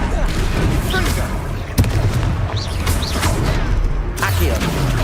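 Confringo blasting spells in Hogwarts Legacy burst out as several booming impacts during combat, mixed with dense game action noise, a character shouting the spell and other voices.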